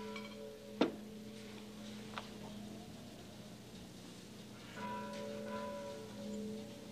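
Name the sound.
chapel bells ringing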